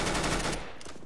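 A rapid burst of automatic gunfire in a video game, sharp and close, then a fainter short volley trailing off.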